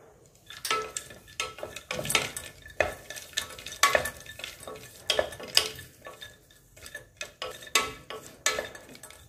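Cashews and raisins roasting in melted ghee for carrot halwa, heard mostly as a rhythm of close spoon scrapes and clinks against the pan over a faint sizzle, no voices.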